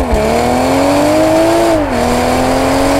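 A BMW Z4 M40i with a ZF 8-speed torque-converter automatic accelerates hard, its loud engine note climbing, dipping sharply at a quick upshift, then rising again.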